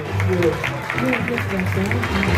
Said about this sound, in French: On l'applaudit, mesdames